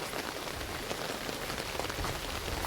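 Heavy monsoon rain pours in Konkan, a dense, loud, unbroken hiss of drops pattering on surfaces close by, with no voices.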